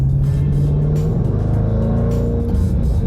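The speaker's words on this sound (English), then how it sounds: "the first thing you're gonna notice about this car is how unbelievably loud it is" A loud, deep supercharged V8 engine of a 2024 Jaguar F-PACE SVR SUV roars steadily and revs, its low rumbling tone shifting in pitch, close and continuous throughout with no voices.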